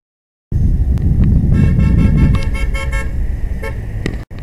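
A car horn honks in a few short bursts over close road traffic and engine rumble, loud and near.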